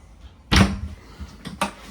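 A drawer in a Latitude Element 27 luxury motorhome on an Iveco Daily base is slid and shut, giving a sharp wooden thud followed by a second softer knock about a second later.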